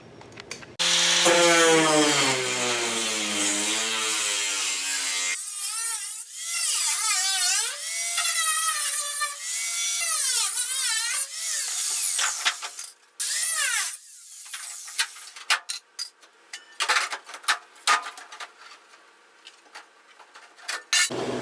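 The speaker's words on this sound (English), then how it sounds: "And that spot weld cutter right there." Spot weld cutter in a drill boring out spot welds on a truck cab corner, a long whining, pitch-shifting grind up close, followed by scattered metallic clicks, taps and handling noises.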